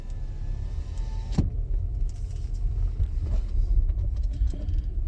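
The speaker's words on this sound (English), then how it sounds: "coming down the road is a truck that's coming in here" A truck drives in along a road at a feral cat feeding spot, its engine a steady, close, loud low rumble throughout.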